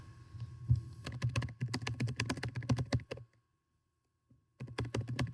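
Fast typing on a computer keyboard, close and clattery, with dense key clicks for about three seconds, a short silent pause, then another burst of keystrokes.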